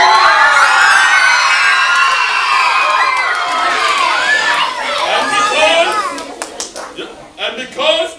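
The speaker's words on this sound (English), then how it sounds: "and the crowd went wild." Loud crowd of excited voices, many sounding like children, cheers and shouts wildly in a sustained roar that breaks up near the end into scattered shouts, with claps and whoops.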